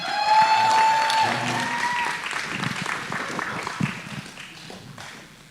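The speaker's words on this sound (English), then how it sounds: "A round of applause." Audience applause at a Hanukkah talent show, a moderate wash of clapping that starts strong and slowly fades, with a tone ringing early on and some voices mixed in.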